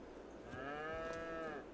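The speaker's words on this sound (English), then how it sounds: "So this would be the one that has the cattle in it, the 20 Holstein cows that we started out with." A Holstein cow in the Farming Simulator 22 video game lets out one long, drawn-out moo lasting about a second, moderately loud and alone over a faint background hum.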